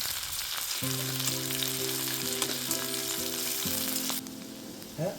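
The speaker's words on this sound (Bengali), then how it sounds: "এই শাক ভাজার রেসিপিটা কিন্তু বেশ ভালো লাগে" Bathua greens (saag) sizzle and crackle steadily in a hot pan, a close continuous frying hiss with a faint steady hum in the background and a brief stir near the end.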